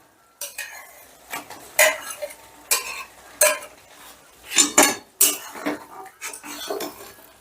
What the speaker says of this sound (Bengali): এবারেও কিন্তু আমি গ্যাসের আঁচটা একদম লোতে রেখে আমি ডিমটা ভালো করে মিশিয়ে নিচ্ছি